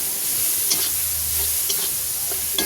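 Banana flower sautéing with coriander powder in a pan, a steady soft sizzle under occasional stirring scrapes, close and alone.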